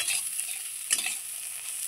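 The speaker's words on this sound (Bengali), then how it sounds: "আমি এই চালটা ভেজে নেবো" Gobindobhog rice fries in a pan with a bright, steady hiss, broken once by a single scrape of a stirring spoon.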